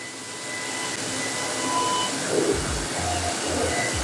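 Welding on a stainless steel stair-like frame with a round plate, using 1.2 mm filler wire: a steady, loud hissing roar with a faint buzz, close and without speech.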